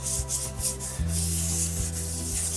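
Sandpaper rubbing along the painted black edge of a guitar body to soften it, a close, steady scratchy hiss in short back-and-forth strokes, with a low hum underneath and no voices.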